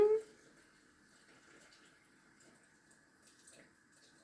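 Water poured into a measuring glass, 250 grams for a recipe, runs as a faint, steady trickle after a brief louder splash at the start, quiet throughout.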